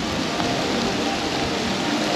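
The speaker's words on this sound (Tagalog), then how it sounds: "Lakas na ulan." Heavy rain pours outdoors in Singapore, a dense, even hiss of steady downpour with no voices.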